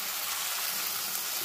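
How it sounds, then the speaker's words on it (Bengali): A loud, continuous hissing sizzle as water hits spiced cabbage and potatoes frying in a hot pan, steady and close with no talking. "এবার পুরোপুরি সেদ্ধ হওয়ার জন্যে আলু আর বাঁধাকপি এর মধ্যে আমি একটু জল অ্যাড করব"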